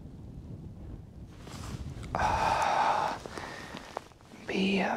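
Low, gusty wind buffets the microphone in a rumbling roar during ice fishing on Lake Burtnieks, with voices and other outdoor noises mixed in.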